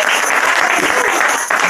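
A church congregation at a prayer gathering in Ndiengdam, Cameroon claps and cheers in loud, dense, continuous applause that fills the whole moment.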